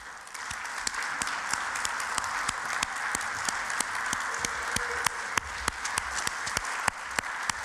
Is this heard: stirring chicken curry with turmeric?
no